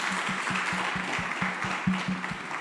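An audience at a community dialogue event gives a round of applause, steady dense clapping throughout with a faint rhythmic low thumping underneath.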